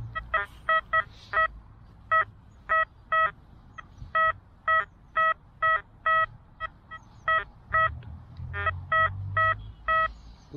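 An XP Deus 2 metal detector signals a big target with a run of about twenty short, evenly spaced electronic beeps, each a clear bright tone, over faint low outdoor rumble.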